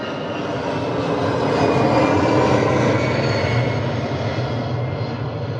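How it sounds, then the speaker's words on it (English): A Boeing 737 jet passes overhead with a loud, broad roar that swells and holds steady across the whole stretch, with no voices over it. "I think that's a 737 Boeing jet."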